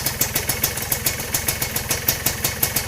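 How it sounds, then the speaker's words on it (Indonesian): A Suzuki Satria motorcycle engine idles close by with a fast, even, slightly rattly putter, steady and loud throughout with no talking. "kalau ingin mendengarkan suara mesinnya ini"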